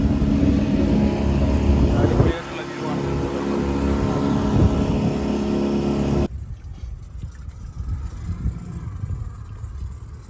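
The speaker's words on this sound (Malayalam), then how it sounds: "നമ്മളങ്ങനെ ഇപ്പോൾ കടലിലെ കാഴ്ചകൾ കണ്ട് അങ്ങനെ ബോട്ട് പോയിക്കൊണ്ടിരിക്കുകയാണ്" A boat motoring across the open sea off Lakshadweep, its steady engine drone and rushing hull noise loud and close throughout, the tone shifting partway as the boat moves on.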